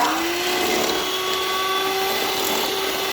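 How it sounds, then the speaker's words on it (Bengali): An electric hand beater whirs steadily through eggs and sugar for a banana cake, a constant motor whine with a slight rising pitch, heard alone and fairly close. "এই হাফ কাপ চিনিকে আমি 3বারে দিয়ে বিটারের সাহায্যে ভালো করে বিট করে মিশিয়ে নিয়েছি"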